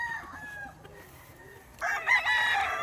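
Gamefowl roosters at a game farm crow, one harmonic call early and a louder, denser burst of overlapping crowing near the end, with faint clucking between.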